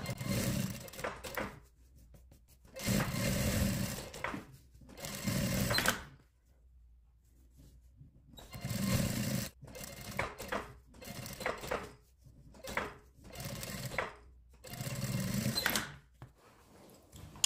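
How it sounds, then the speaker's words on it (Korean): A sewing machine stitches a fleece vest in several separate bursts of rapid, close mechanical whirring, broken by short quiet pauses between the runs. "겉면이 이쁘게 스티치 놓습니다."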